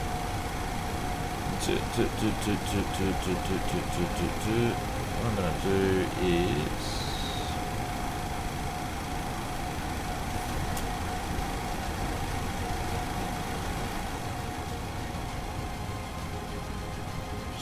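Boeing 737 jet engines running in the X-Plane 11 flight simulator, a steady low engine rumble and whine under a constant cockpit hum, with a voice talking over it and a few short tones and clicks near the start.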